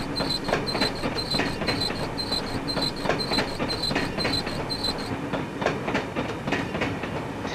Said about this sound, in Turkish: Sağa ve sola doğru geçerek trenlerden kurtulmaya çalışıyoruz.